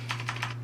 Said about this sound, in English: Gotta love having a baby around to kick your keyboard.